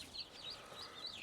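Chickens kept in a coop with young turkeys, giving faint high clucks and calls in a brief, quiet snatch of sound.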